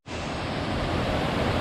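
Rushing water at the base of Triple Falls, Little Egypt, roars as a steady, dense wash of noise, close and constant with no voices.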